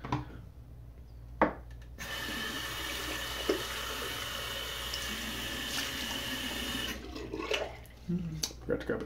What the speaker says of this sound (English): My bowl filled up while I'm doing this.